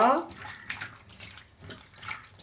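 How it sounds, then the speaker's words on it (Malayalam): Chopped breadfruit pieces being washed in water, giving soft splashing and sloshing with intermittent drips, close by and fairly quiet, with faint voice-like sounds in the background. "ചെത്തി കഷ്ണങ്ങളാക്കി കഴുകി വാരി കരത്തിലാക്കാം"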